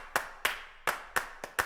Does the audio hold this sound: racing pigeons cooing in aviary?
no